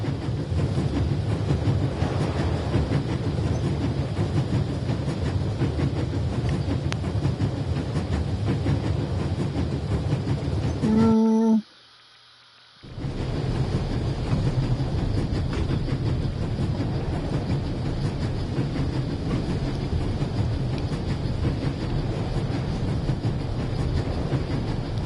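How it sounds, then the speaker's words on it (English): Rumble and rhythmic clatter of an old-fashioned steam train on the move in a video game, a continuous rolling din broken once by a brief near-silent cut before resuming. "There's nothing quite like traveling on a train."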